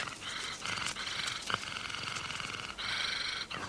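A cat purring close by, steady and continuous, with a short bright accent midway and a brief dip near the end; no voices.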